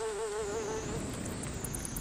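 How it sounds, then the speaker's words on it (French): Flies in the Mystery 13th Skull video game make a steady, continuous insect buzz throughout, with a wavering whine at the start and no talk. "Ok, des mouches"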